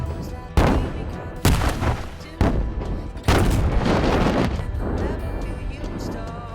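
Avalanche-control explosive charges detonate on a ski slope, four heavy booms in quick succession, each sudden and loud, rolling into a sustained rumbling roar.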